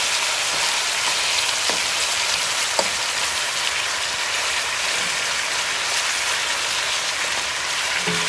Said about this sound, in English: Just leave it, make it fry, guys.